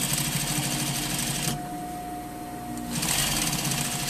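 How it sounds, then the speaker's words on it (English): Sewing machine understitching a front fly facing 1 mm from the seam, running in a steady continuous whir, pausing briefly mid-clip and then starting up again, close and fairly loud with no talking. "you're going to do your understitch at 1 millimeter from your seam"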